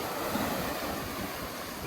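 Sea waves wash onto the beach at Enoshima, Japan, a continuous broad roar of surf mixed with wind buffeting the microphone, steady and fairly loud without talk.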